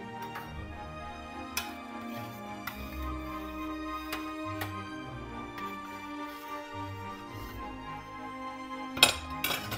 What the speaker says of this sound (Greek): Θα ανακατεύουμε καλά.